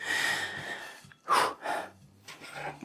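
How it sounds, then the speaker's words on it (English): Heavy, labored breaths from a man standing in his kitchen cooking, a few audible inhales and exhales with gasping edges, close and fairly quiet, with short pauses between them. "Sorry if I'm breathing heavy."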